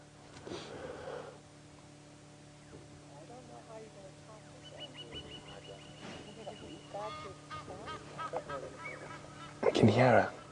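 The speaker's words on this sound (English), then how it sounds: "I can hear an Egyptian goose making noise in the distance." An Egyptian goose honks in the distance at a safari reserve, faint calls set against low ambient hum and scattered bird sounds, with a louder burst of noise near the end.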